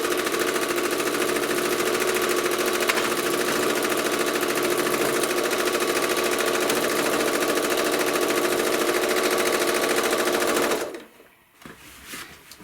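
Sewing machine stitching a quilt, a fast, even mechanical whir running loud and continuous for about eleven seconds before stopping abruptly, followed by faint handling noises.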